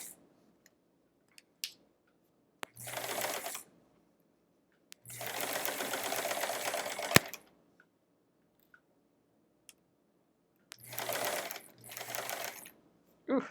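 A sewing machine stitches foundation paper piecing for a quilt block in three separate bursts, each a rapid buzzing rattle, with quiet pauses and small clicks between the runs.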